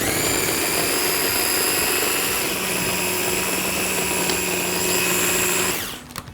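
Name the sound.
food processor blending mushrooms into a puree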